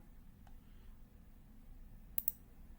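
Two quick, crisp mouse clicks in close succession on a quiet desk, near and sharp, with nothing else but faint background hum.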